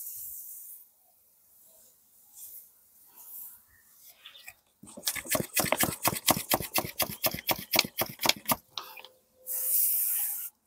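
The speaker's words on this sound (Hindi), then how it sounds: "ऐसे करके पत्ते के नीचे से भी आपको स्प्रे करना है" A hand spray bottle mists a remedy onto rose plant leaves against spider mites, firing about twenty quick squirts in a fast, even run, then one longer hiss after a quiet start.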